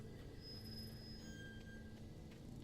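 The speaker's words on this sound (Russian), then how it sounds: "О, где-то что-то металлическое скрипит." Metal creaks somewhere in the video game Alan Wake, with thin, drawn-out high-pitched squeals rising over a low, steady rumbling ambience, distant and eerie.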